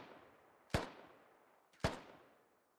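AK rifle gunfire in a military video game: two sharp, booming single shots about a second apart, each with a long echoing tail, with no talk.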